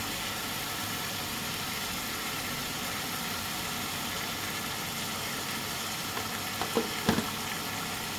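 Chicken pieces are sautéed and stirred in a pan for white chicken curry, giving a low, steady sizzle with a few scraping stir sounds near the end and no talking.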